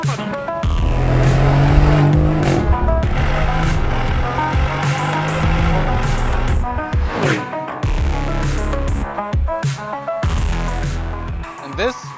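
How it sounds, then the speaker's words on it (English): A Lamborghini Urus SE driven hard, its loud engine roaring and rising through revs with sharp gear changes and crackles, the note surging and dropping close by. "is our Chief Technical Officer, Ruben Moore, having fun with the Urus SE."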